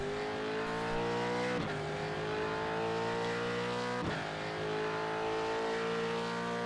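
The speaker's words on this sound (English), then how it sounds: "running it up through the gears down the start finish straight here" A V8 race car in a racing sim video game accelerating down the start-finish straight, engine whine climbing steadily in pitch with two sharp gear changes, loud and continuous with no talking.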